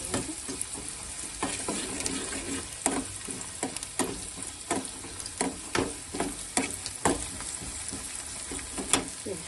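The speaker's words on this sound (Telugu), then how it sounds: "క్యాప్సికమ్ వేసుకున్నా. ఇది వేగాలి కొంచెం నూనెలో" Capsicum fries in a little oil for a Telugu-style capsicum masala, a close, steady crackling sizzle punctuated by frequent sharp spatula scrapes and stirs, no talking.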